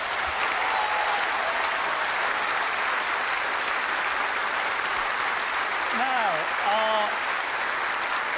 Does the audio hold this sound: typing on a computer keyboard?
no